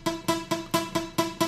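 A guitar string plucked repeatedly in a steady rhythm, about seven short, dampened notes with a dull, choked attack and little ring.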